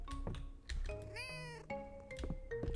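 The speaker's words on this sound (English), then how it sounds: "My pet is a cat." A pet cat in the farming game Fields of Mistria gives a clear rising meow amid soft game sound effects and chimes, close and moderately loud, with no talking.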